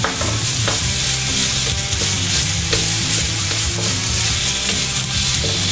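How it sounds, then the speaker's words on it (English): Pork frying and being stirred continuously in a hot pan, a loud dense sizzle with constant scraping and clattering from the stirring, close up and without speech. "You really want to keep this moving because stuff's going to burn if it sits here for any amount of time. Keep stirring."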